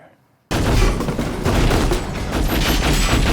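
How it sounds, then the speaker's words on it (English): Loud, sustained burst of gunfire from a TV drama scene, shots fired behind a bar shattering glass, a dense continuous barrage erupting suddenly after a brief quiet moment. "Classic behind the bar, shooting all the glass."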